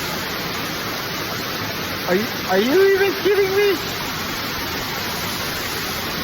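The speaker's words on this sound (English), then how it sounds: "There's a waterfall in a cave." Waterfalls pour inside a cave along a nature trail near Branson, Missouri, a steady broadband roar of falling water that holds throughout, with a voice briefly speaking over it midway.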